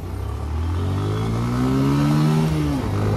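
A motorcycle engine revs hard while racing alongside a bus on the road, a loud close droning roar whose pitch climbs steadily for over two seconds before dropping briefly and settling, with faint clatter and no talking.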